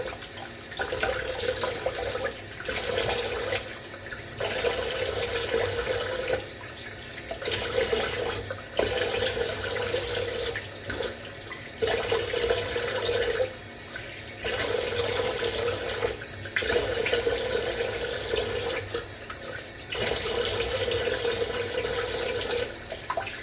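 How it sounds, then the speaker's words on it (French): A cold tap runs steadily into a sink while someone rinses their face after shaving, with continuous splashing and brief pauses as hands scoop the water. "Je me rince à l'eau froide."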